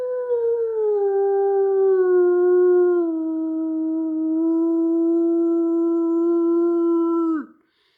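A person imitates a low territorial wolf howl, one long sustained loud call that dips slightly and holds steady for several seconds before cutting off abruptly.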